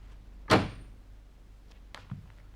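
A door is opened with one sharp, loud clack, then a few small faint clicks follow in a quiet room.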